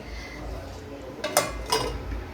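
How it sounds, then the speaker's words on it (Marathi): A lid set onto a pot of spicy drumstick-and-potato curry gives two short, close metallic clinks less than half a second apart over a quiet kitchen background. "आता मी झाकण ठेवून घे त्याच्यावर"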